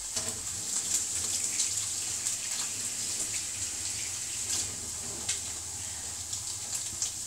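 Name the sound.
washing hands under running tap water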